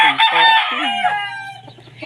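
A loud, close rooster crow rising and breaking off, followed by quieter clucking in the background.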